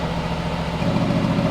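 Sports car exhaust idling after a cold start, a steady, close, low droning rumble that holds even and slightly swells partway through, with no talking.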